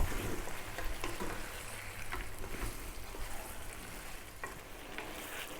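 Tomatoes frying over high heat in a pan as beef and rice are cooked Arabic style, giving a steady, dense sizzle with light scraping and stirring knocks throughout, close and continuous with no talking.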